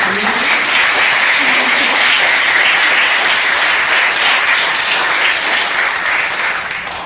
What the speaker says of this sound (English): Can we just give another round of applause?